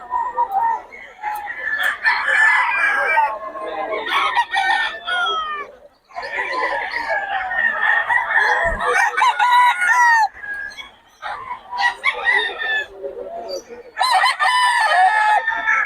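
Roosters at a Bocaue chicken market crow repeatedly, loud and close, with overlapping calls and clucks filling most of the stretch and brief gaps between bursts.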